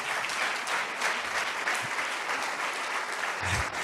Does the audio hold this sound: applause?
yes